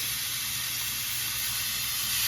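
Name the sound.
chicken breasts sizzling on grill pan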